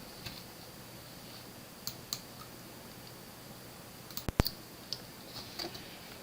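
Sparse key presses on an HP 1000 A990 terminal keyboard, faint isolated clicks with one sharper cluster of taps, over a steady background hum of computer equipment.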